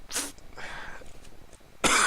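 Two sharp coughs from one person, a short burst at the start and a louder, harsher one at the end, separated by a quieter stretch of breathy noise.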